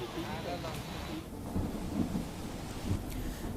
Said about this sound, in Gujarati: ભારે પવન સાથે કમોસમી વરસાદ અહીં વરસી રહ્યો છે